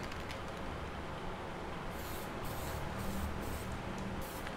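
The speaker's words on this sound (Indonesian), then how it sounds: "Oke, semprot secara bergantian ya, dari mint green, terus pastel pink, dan pastel yellow." Spray paint hisses from an aerosol can onto a helmet in pastel colours, several short bursts and a longer steady spray, close and fairly quiet with no talk.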